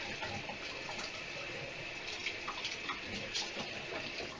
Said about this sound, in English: The first thing that you need to do is rinse them under cold water.